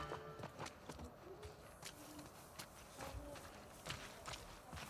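Hooves of a horse in a video game set in Seattle clop in an irregular run, fairly faint and spread through the whole stretch, over a low background.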